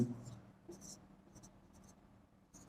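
A pen scratches out a class 12 integration solution on paper, soft intermittent strokes close to the microphone, quiet, with brief bursts and pauses.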